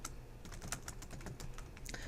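Computer keyboard typing comes in quick, uneven bursts of clicking keys, close and fairly quiet over a low steady hum, with no speech.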